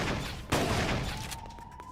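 Gunfire in the video game Xenoblade Chronicles X, a sharp burst of shots around half a second in over a steady rumbling background, followed by a faint rising tone.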